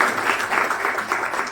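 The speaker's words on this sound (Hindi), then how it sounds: "तो इसके लिए भी जोरदार ताली।" Audience at a district-level school awards program in Rajound claps steadily, a brief burst of many hands close by with no voices over it.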